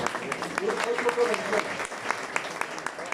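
An audience at a book launch for a novel at a memory and reconciliation centre claps steadily, many hands blending into a continuous patter, while a voice speaks briefly underneath.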